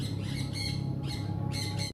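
Fancy birds squawk continuously in a set of twelve farm cages holding about twelve pairs, harsh overlapping calls repeating in bursts over a steady bed of chatter, loud and close.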